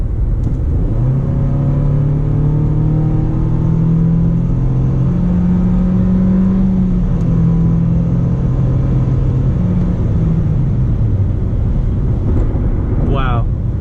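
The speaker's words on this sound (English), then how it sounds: "that's a huge amount of powertrain noise" A 2017 Nissan Sentra accelerates hard from inside the cabin. A loud, droning powertrain whine climbs steadily in pitch, drops, and climbs again in stepped surges, and a voice speaks near the end.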